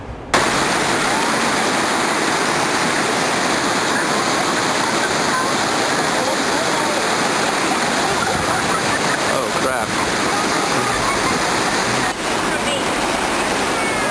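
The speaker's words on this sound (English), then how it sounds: "A lot of rushing water out there" Steady, loud roar of river rapids rushing in Georgetown, Texas, a continuous broadband wash of water with no breaks.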